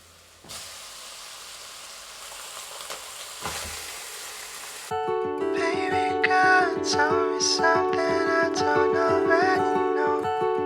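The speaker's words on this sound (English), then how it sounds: "Next what I'm going to do is I'm going to add in the mince" Mince sizzling in a pan over onion and rajah spice, a loud steady frying hiss with stirring, joined midway by background music playing over the sizzle.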